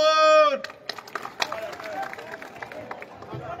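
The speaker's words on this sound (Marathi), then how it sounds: "टाळ्या वाजवून।" A crowd at a political rally for municipal council elections breaks into scattered, uneven clapping after a voice trails off, the applause staying moderate and patchy under faint hubbub.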